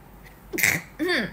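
A woman sneezes during a livestream, one sharp close burst followed by a brief breathy vocal sound.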